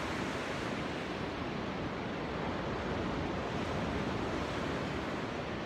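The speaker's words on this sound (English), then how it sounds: "There's a beach down there." Waves and surf on the California coast below a cliff: a steady, dense wash of broadband ocean roar, constant and unbroken throughout with a little wind, no voices heard.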